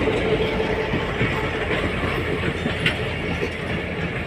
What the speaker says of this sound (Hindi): इस ट्रेन का नाम है एक्सप्रेस